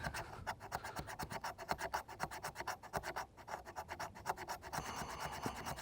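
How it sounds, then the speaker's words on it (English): A Condor Kephart bushcraft knife scrapes fatwood in rapid, steady rasping strokes, each pass a short scratchy burst repeating close and clear for several seconds with no talk. "Let's make sure, see if we can scrape some fat with this thing."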